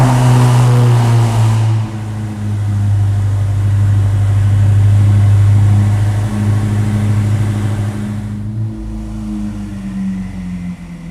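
A Ferrari SF90 Hybrid's engine and exhaust give a loud, close, steady deep roar that holds for several seconds, then shifts character briefly near the end.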